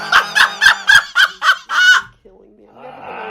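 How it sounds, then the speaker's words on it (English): A man snores loudly in a quick burst of about seven harsh, honking snorts, close and rhythmic, then a short pause before a softer, rougher breath. "That is one of the craziest snores I've ever heard in my life."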